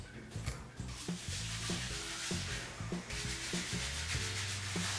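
Curly hair is scrubbed by hand while being washed with shampoo, giving a close, continuous rubbing and squishing that carries on steadily for several seconds, with faint tonal sounds underneath.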